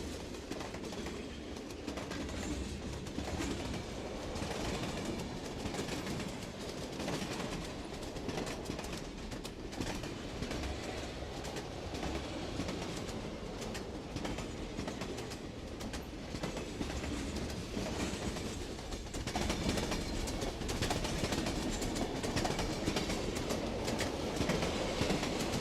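Train rolling across a viaduct over Stour Meadows near Wimborne in 1977, a steady rumbling clatter of wheels on rail that grows slightly louder toward the end, with faint birdsong and no talking.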